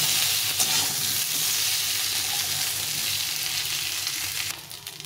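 Chunks of potato and taro fry in hot oil in a home kitchen, a close, steady sizzle with light stirring scrapes and no talk.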